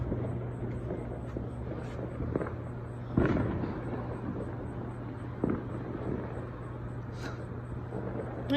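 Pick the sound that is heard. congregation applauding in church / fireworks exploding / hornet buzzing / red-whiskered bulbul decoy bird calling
fireworks exploding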